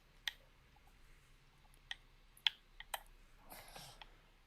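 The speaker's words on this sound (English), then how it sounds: "because we can hear the clicking of your controller" Clicks from an Xbox controller come as a handful of sharp, faint, irregular taps scattered across a quiet background, followed by a short soft rustle.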